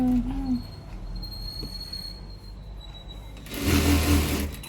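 A sewing machine stitching blouse sleeves runs in one short, loud, rapid whirring burst near the end, after a quieter stretch of faint background hum.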